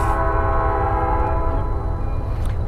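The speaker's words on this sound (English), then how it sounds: "The Southern 5000 on the dinner train." A Southern 5000 locomotive pulling a dinner train, its chorded horn sounding loud and close in one long sustained blast over heavy rumbling of the passing train.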